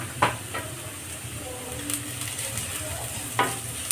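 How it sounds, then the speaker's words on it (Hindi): Spinach with coriander powder and turmeric sizzles softly in a pan for lasooni palak, with a faint steady hiss and a few light scrapes of a spoon stirring. "चला के हल्का फ्राई कर लेंगे इसको।"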